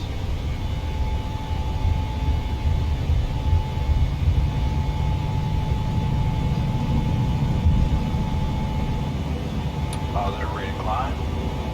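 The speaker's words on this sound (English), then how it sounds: "we're going to take off, do a very quick circuit" A fixed-wing aircraft taking off in a flight simulator near the Lone Star Flight Museum in Houston, Texas, a steady loud engine drone with a low rumble and a thin constant whine, with someone talking over it.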